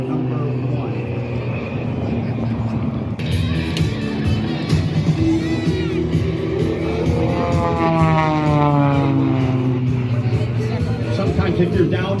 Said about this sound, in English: The plane you are seeing in front of you is literally serial number 1.